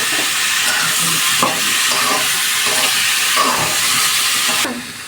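Boiled potatoes being stirred into onions frying in a pan, with a steady loud sizzle and hiss broken by a few scraping stirs, close up and without talk.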